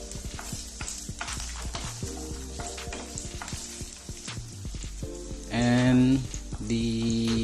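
Garlic and ginger fry in a hot pan with a loud, steady crackling sizzle, swelling briefly louder as more goes in, while a voice speaks over the cooking.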